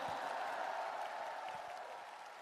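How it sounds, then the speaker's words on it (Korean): Faint crowd applause at a Korean political party convention, a soft, fairly distant wash of clapping with a low murmur, fading slightly over about two and a half seconds. "박수 한번 부탁드립니다"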